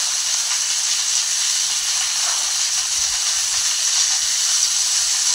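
Cauliflower, potato and chopped onion frying in a pan, giving a steady, loud, bright hiss of sizzling oil that runs unbroken from start to finish with no voices.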